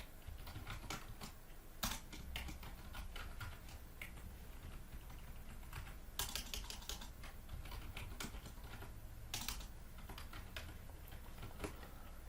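Quiet, rapid clicking of a computer keyboard with irregular bursts of keystrokes and a few sharper key presses, steady throughout and close to the mic, no talking.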